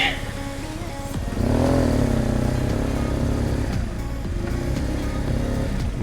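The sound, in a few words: motorcycle engine revving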